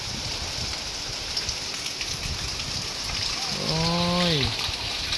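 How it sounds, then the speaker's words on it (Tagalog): Steady rain patter and wind hiss fill the background, with a brief voice rising over it near the end. "may ulan."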